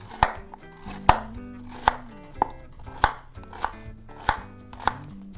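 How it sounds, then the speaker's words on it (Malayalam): A knife chops onion on a board in about eight sharp, evenly spaced strikes, close and crisp with brief quiet gaps between cuts. "സവാള ഇതേപോലെ ഒന്ന് ചെറുതായി കട്ട് ചെയ്തിട്ട് നമുക്ക് അടിച്ചെടുക്കാനുള്ളതാണ്"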